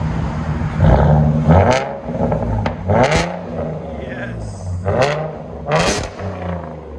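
A 2017 Ford Mustang 3.7L V6 with Flowmaster Outlaw exhaust and resonator and muffler delete blips its revs in several sharp, loud bursts over a rumbling idle, and a voice briefly speaks once.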